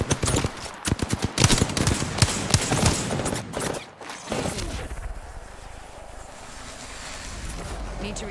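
Rapid bursts of video game gunfire crackle loudly in dense volleys for several seconds, then give way to a quieter rushing ambience with sporadic shots.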